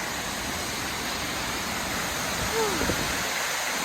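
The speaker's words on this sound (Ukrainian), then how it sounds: "А ось і водоспад." A steady, dense roar of the Shypit waterfall fills the space, constant and loud, with a brief faint tone rising over it near the end.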